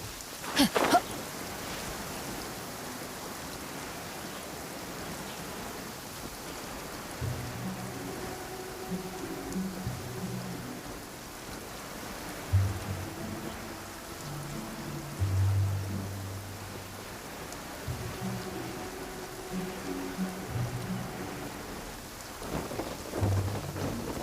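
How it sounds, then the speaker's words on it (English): Steady rain pours in the Genshin Impact game world, with low rolling thunder rumbling repeatedly in the distance and a sharp crack near the start, all fairly quiet and without voices. "It always rains when I go on an adventure."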